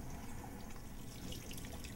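Hands being rinsed under clean running tap water at a comfortable temperature, a steady, continuous splashing stream that stays even and close throughout.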